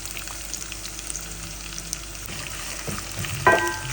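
Chopped onions sauté in a pan for an egg curry, a steady low sizzle with occasional stirring scrapes and a brief clink near the end, no talking.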